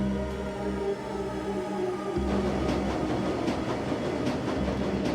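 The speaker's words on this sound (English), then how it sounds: "The train ramps up speed, filling the air with monotonous electronic whir." Train ride in the video game Shadowrun Dragonfall, a steady humming rumble that shifts and picks up a busier rattling clatter as it gains speed, with a monotonous electronic whir throughout.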